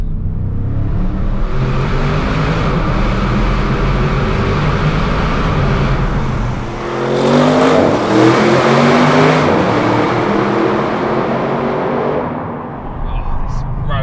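An Audi RS 7 Sportback accelerates through a long tunnel, its loud engine echoing and building steadily with a surge of revs midway, while someone talks over it.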